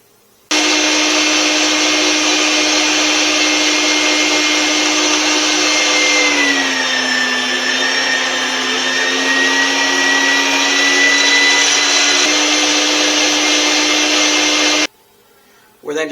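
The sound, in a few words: grinding Wagyu chuck beef and bacon in a grinder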